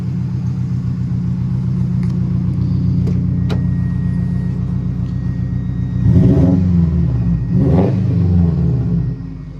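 A healthy car engine, newly swapped into an old car, idles with a steady low rumble, then revs up twice in quick rising and falling bursts near the end before settling back.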